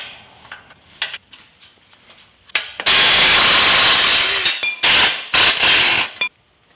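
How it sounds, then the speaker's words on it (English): Impact wrench fitted with a 14mm socket zips off bolts on a boat trailer jack, loud sustained bursts of power-tool whir with short pauses and a few clanks between runs. "We're gonna need a 14mm wrench and a 14mm socket on the impact just to make it quicker."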